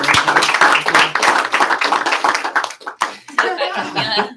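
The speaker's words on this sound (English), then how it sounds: "We still clap loud, so we'll clap." A training seminar audience claps loudly over mixed speech and laughter, the dense clatter of hands fading briefly before picking back up.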